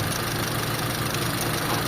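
A warmed-up car engine idles steadily and close during ignition timing work with a timing light, a continuous even rumble with no voices.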